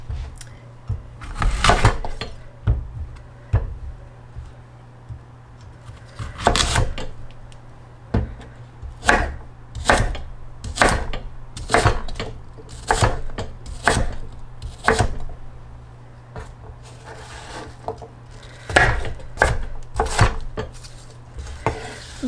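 A knife chops fennel and apple on a cutting board in a home kitchen, giving a steady series of crisp, close thuds at an irregular but persistent rhythm, with light handling noises in between.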